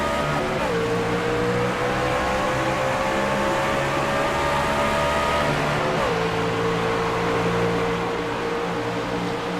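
Race trucks in the iRacing game at the Texas round roll off at the start, a loud steady engine drone with rising pitch that drops as gears shift, continuous and close with no talk.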